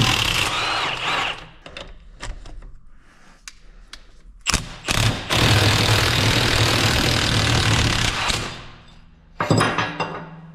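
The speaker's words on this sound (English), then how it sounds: "This next thing, we should take our yoke off." Taking the yoke off a GM 4x4 axle, either a 9.25 IFS front differential or a 14-bolt rear: a loud, sustained mechanical whirring burst with sharp metallic clunks before and after it, and scattered handling noises in between.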